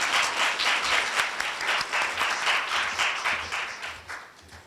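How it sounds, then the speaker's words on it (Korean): Indoor audience at a Korea University lecture gives sustained, dense applause to welcome the university president to the podium, loud and close, tapering off toward the end. "다 같이 뜨거운 박수로 환영해 주시기 바랍니다"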